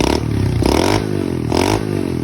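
A small pit bike engine fitted with a Nibby carburetor revs up sharply three times, each burst rising in pitch and then dropping back to a rattling idle, loud and close.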